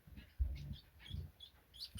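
Chestnut-breasted mannikins chirping in a series of soft, high calls spread across the moment, with low thumps and faint room noise underneath.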